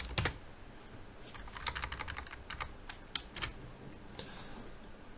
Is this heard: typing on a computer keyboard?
yes